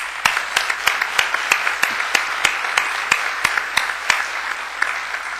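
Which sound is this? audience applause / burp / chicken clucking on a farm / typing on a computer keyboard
audience applause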